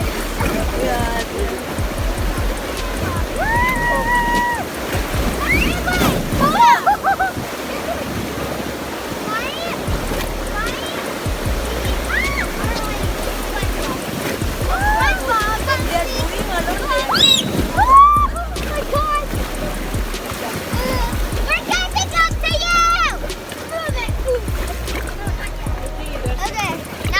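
Whitewater splashing and rushing as a raft hits bumps on the Nantahala River, a continuous churning wash with sudden splashes and excited voices talking and shouting over it.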